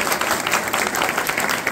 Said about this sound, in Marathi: मग टाळ्या वाजवा एकदा.